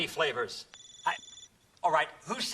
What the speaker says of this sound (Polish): Czyja to komórka?